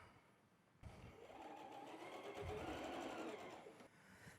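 A sewing machine runs steadily for about three seconds, chain piecing quilt squares for a nine-patch star block, its close, even motor whir starting abruptly and stopping cleanly with no talk over it.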